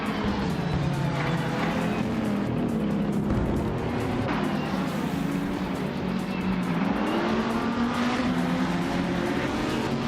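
A 2014 McLaren 650S and rival race cars accelerate in a racing video game, their engines roaring continuously with rising, sweeping pitch that climbs through the gears at a loud, steady level.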